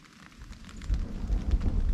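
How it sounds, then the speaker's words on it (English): Thunder rumbling during a storm in a pine forest, a deep low roll that builds and swells into a sustained heavy rumble, loud and alone with no voices. "You'll hear the thunder here in a minute."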